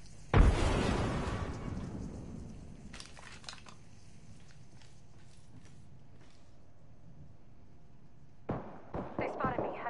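A frag grenade detonates in Apex Legends with one loud, close blast and a long rumbling decay, followed by scattered small impacts and a later burst of sharp clatter.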